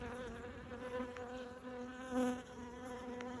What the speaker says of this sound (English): You hear that one buzzing?